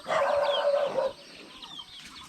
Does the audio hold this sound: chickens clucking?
yes